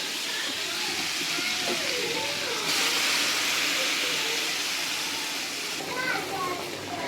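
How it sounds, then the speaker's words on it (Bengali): Gourd dal poured into a hot tempering of browned onion in oil sets off a loud, steady hiss that fills the whole stretch, with a voice talking over it. "আমি এখন পেঁয়াজ দিয়ে বাগার দিয়ে নিচ্ছি পেঁয়াজটা ব্রাউন হয়ে গেলে ডালগুলো ঢেলে দিব"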